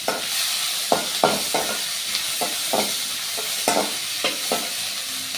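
A sprig of curry leaves sizzling in hot oil in a pan, a bright steady crackle with regular spatula scrapes and taps close by.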